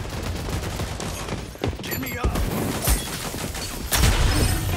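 Gunfire rattles in a Rogue Company team deathmatch, with rapid close bursts and several sharp, loud cracks over dense in-game noise.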